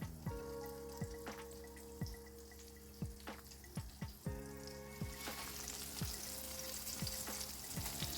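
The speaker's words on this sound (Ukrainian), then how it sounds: "викладаємо наш фарш на розпечену сковорідку та смажимо котлетки" Steady sizzling and crackling of minced-meat patties frying in a hot pan, close and fairly quiet, with a hum and occasional soft taps over it.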